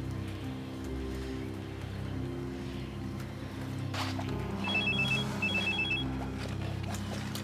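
A telephone ringback tone sounds while a call is placed to a friend, with two short ringing bursts close together over a low indoor hum.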